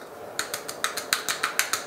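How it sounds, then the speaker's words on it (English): A small plastic pump sprayer being twisted onto a bottle of hair fibers gives a rapid run of about ten crisp ratcheting clicks at an even pace. The clicks are close and distinct against a quiet room. "It's a little pump that you just screw on top of the bottle."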